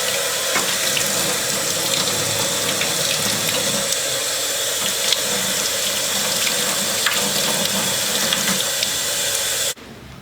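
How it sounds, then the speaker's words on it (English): Warm water runs steadily from a tap over the threads, bore and outside of a Colt Lightning rifle's parts, a continuous close splashing flow that cuts off abruptly near the end. "Get those threads rinsed out really good. We're using good warm water to do this, and then the outside."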